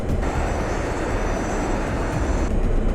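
Airliner engines at takeoff power during the takeoff roll, a steady, loud, broadband roar with a faint high whine on top, continuous and close throughout.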